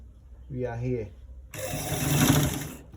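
Sewing machine stitching a V-neck on a garment, a dense steady whirring run lasting about a second and a half after a short burst of a voice.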